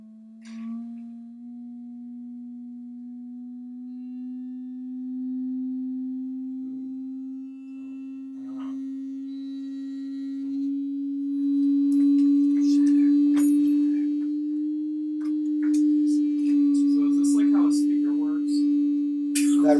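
Steady pure sine tone held near 384 Hz for a resonance demonstration, sounding continuously and loud throughout, with faint speech and clicks appearing in the later part.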